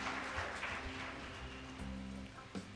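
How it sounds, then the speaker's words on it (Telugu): A church congregation claps loudly together to praise God at a testimony gathering, a dense, steady patter of many hands close by with no talk over it. "గట్టిగా చప్పట్లు కొట్టి ప్రభుని స్తుతించుదాం."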